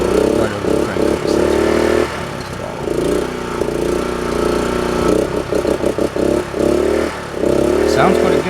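A Honda generator engine runs with a steady mid-pitched drone, revving up and down as its throttle is adjusted, with choppy dips and surges in between.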